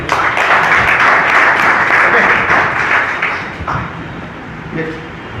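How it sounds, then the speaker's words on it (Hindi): Loud applause from an audience at a company marketing seminar, dense clapping filling the room for several seconds before thinning out toward the end. "गौरव सर के लिए एक बार जोरदार तालियां"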